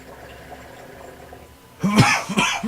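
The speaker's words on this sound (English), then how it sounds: "I'm so sorry for coughing on the mic." Two or three harsh, loud coughs burst out close to the microphone after a stretch of near silence.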